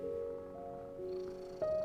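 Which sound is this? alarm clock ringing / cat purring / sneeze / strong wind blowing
cat purring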